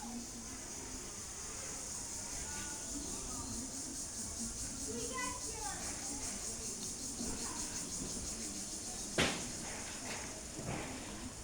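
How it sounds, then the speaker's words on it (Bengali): Crickets chirp steadily outdoors on a hot day in a rural setting, a faint high continuous trill under someone talking, with a brief sharp knock near the end. "পাশে ঝিঝি ঝিঝি পোকার ডাক শোনা যাচ্ছে"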